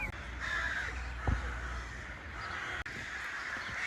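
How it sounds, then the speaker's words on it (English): Crows or ravens cawing repeatedly in a park in Turda, Romania, over a steady outdoor background, with several harsh calls overlapping at moderate distance; a brief thump partway through. "this park has the most crows or ravens that I've ever seen in one place"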